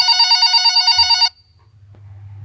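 A telephone rings in a stage drama with rapid, bright electronic trills that stop abruptly partway through, followed by a low hum.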